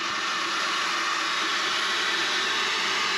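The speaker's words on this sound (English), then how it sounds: "So as you hear the hair dryer, what Chris is doing is just helping speed u" A steady, loud hair dryer blows with an even hiss and whir throughout, used to defrost a portable fridge freezer, with no change in pitch and no voices.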